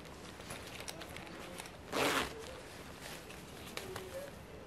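A zipper on a plus-size garment gets one quick, sharp pull, close and fairly loud, surrounded by faint fabric handling and small rustles.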